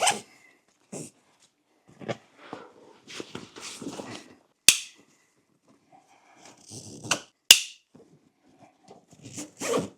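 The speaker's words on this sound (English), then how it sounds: "Then I like to cinch all the straps down nice and tight." Straps on a GORUCK GR3 travel backpack being pulled and cinched tight, giving several short, sharp zips and snaps of webbing with quiet gaps in between, all close by.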